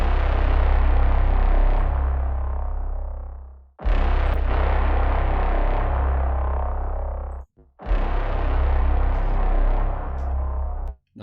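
Output's Thermal distortion FX plugin processes a dense, loud, saturated sound in three long sustained bursts, each cut off abruptly by a short gap, thick and gritty with a heavy low end.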